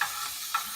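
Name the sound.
jalapeno bacon sizzling in a pan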